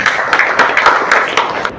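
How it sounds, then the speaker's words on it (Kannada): Audience clapping at an outdoor company outing in Bangalore, a short burst of scattered, fairly close hand claps, loud and lively but thin, fading at the end. "ತಮ್ಮೆಲ್ಲ ಜೋರ ಚಪ್ಪಾಳೆ ಮುಖಾಂತರ"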